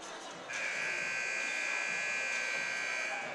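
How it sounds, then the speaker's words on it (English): A final buzzer sounds at a high school basketball game between Riley Wildcats and Evansville Bosse, one long steady electronic tone starting a half second in and holding over gym crowd noise to the end. "you'll hear the final buzzer"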